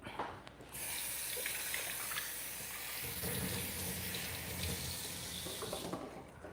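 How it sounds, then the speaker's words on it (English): A pot is rinsed under a kitchen sink tap, a steady close hiss and splash of running water that starts abruptly and stops near the end. "Let me rinse it out."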